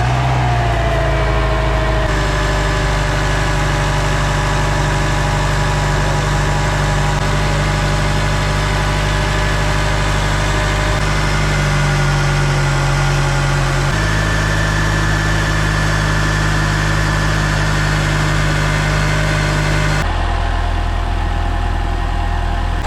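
A 2011 Subaru WRX engine idles steadily and loudly close by after a belt replacement, its low droning hum shifting pitch a few times without pause and with no voices.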